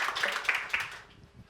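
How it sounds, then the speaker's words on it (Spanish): Brief burst of audience applause after a lecture, a short patter of clapping hands that fades within about a second. "Fuerte aplauso para Gonzalo."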